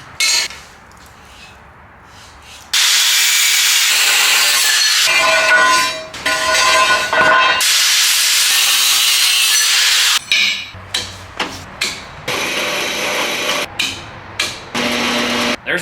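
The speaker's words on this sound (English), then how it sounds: "We're going to cut two 4-inch pieces, drill a hole in it, bolt them up, start from there." Steel stock is cut into two short 4-inch pieces for a custom truck crossmember in a shop, loud harsh grinding or cutting bursts broken by short pauses, a quiet gap at the start, no talking.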